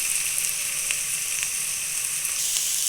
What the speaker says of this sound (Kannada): ಈರುಳ್ಳಿ ಫ್ರೈ ಹಾಕ್ತಿದೆಯಲ್ಲ ಅದರೊಳಗಡೆ ಹಾಕ್ಕೊಂಡ್ಬಿಡ್ತಾ ಇದ್ದೀನಿ